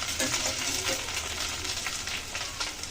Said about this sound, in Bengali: দিয়ে আলুর সাথে ভালো করে ভেজে নিলাম